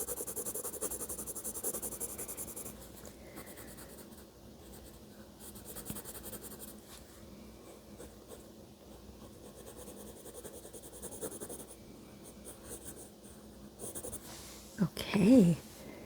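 A pencil shades across paper while drawing a bear, a soft, continuous scratchy whisper of graphite strokes that runs quietly and close throughout, ending in a couple of slightly louder strokes.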